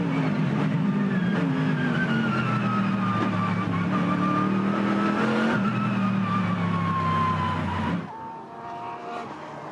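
Onboard a Mercedes-AMG GT3 Evo race car at Sonoma, the engine roars loudly under hard acceleration with rising and falling revs through gear changes, then drops abruptly as the car lifts off.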